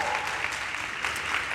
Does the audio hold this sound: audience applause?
yes